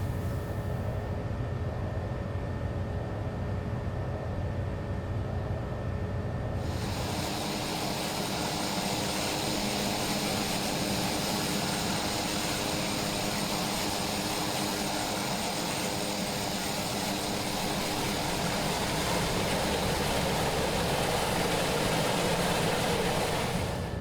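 A TBM 900 turboprop taxis toward the runway at Fresno in the X-Plane 11 flight simulator. Its engine drones steadily and close, then swells into a fuller, louder roar after a few seconds and holds there.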